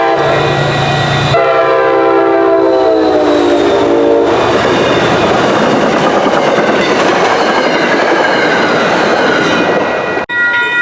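MBTA Worcester Line commuter train, Keolis 517, passing at Parmenter Road in North Grafton, loud and close, with a horn blast followed by heavy rolling rumble and clickety-clack.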